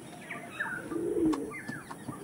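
Pigeons give a soft, low coo near the middle, framed by a few higher chirps and a faint flutter of wings, quiet and close with no talking.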